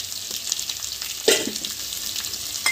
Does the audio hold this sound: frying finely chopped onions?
yes